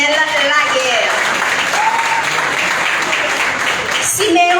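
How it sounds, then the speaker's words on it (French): Audience applause at a youth awards ceremony, a steady loud wash of clapping with voices and tonal sounds mixed in over it. "On applaudit Chanley Bonnel Laguerre."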